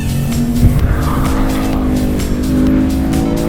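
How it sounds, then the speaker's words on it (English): A Kia Stinger GT slides on a race track at speed, tyres squealing steadily over a loud, sustained engine drone, close and continuous for a few seconds. "It goes into a slide"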